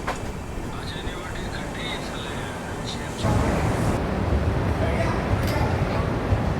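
Passenger train, the Kacheguda - Bhagat ki Kothi Express in India, rolling along with a continuous broadband rumble of wheels and carriage noise that grows louder and rougher midway through.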